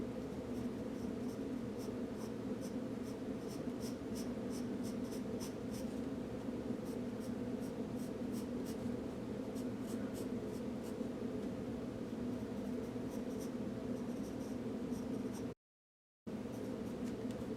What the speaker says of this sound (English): I'm just using that number 2 pencil.